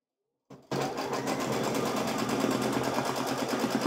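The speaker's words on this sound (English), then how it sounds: "Remember, the first thing that is going to stitch is that basting stitch to hold my top layer" An embroidery machine runs a basting stitch to hold the top layer of a table runner hooped in a magnetic frame, starting abruptly after a brief silence and then humming steadily with a fast, even stitching rhythm, close and moderately loud.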